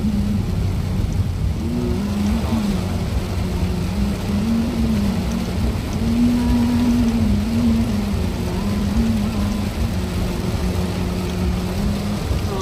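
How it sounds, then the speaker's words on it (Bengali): Very heavy rain pounds a car during a long drive from Chittagong toward Cox's Bazar on a single-lane road, a dense steady roar with low engine and road rumble throughout, loud and continuous with no speech. "এগুলো ঝড় হইলেও তো এরকম বৃষ্টি হয় না।"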